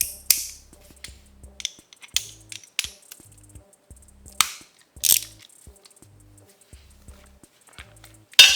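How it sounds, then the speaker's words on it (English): A torque wrench ratchets in quick, crisp clicks while tightening the oil drain bolt on a Honda CB1000R motorcycle, the close clicking coming in short bursts separated by pauses. "Still had the torque wrench ready just to make sure that's to the proper specs."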